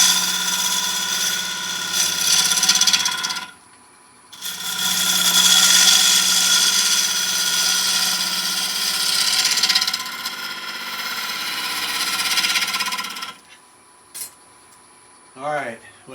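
A wood lathe turns a segmented bowl from an 8-inch kit, a loud scraping, hissing cut that runs in two long passes with a short pause between, then stops, leaving a few faint knocks.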